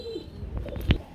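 A pair of red Danish pigeons coo in low, soft bursts near at hand, with a sharp tap or click near the end.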